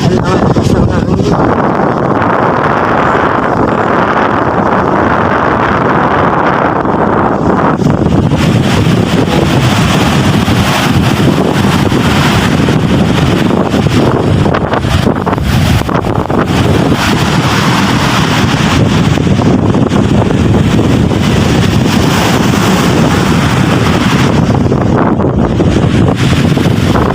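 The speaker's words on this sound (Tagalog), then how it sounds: "Ang lakas ng hangin." Strong wind gusts roar and buffet the microphone continuously outdoors, a loud broadband rush that swells and eases throughout.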